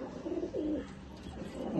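A pair of pigeons in a home loft give soft, low coos, two or three rolling calls close by and quiet against faint background noise.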